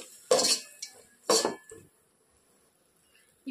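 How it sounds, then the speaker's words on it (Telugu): A spoon clinks and scrapes against a cooking pot in two short bursts while curd is stirred into a chicken mixture for fried chicken biryani, followed by quiet. "2 స్పూన్స్ పెరుగు వేసేసుకొని మొత్తం కలిసేలాగా కలుపుకోవాలి."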